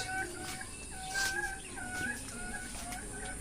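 Pet chickens in a backyard coop cluck repeatedly in soft, drawn-out calls. The clucks are quiet and somewhat distant, with a faint ambient hiss behind them.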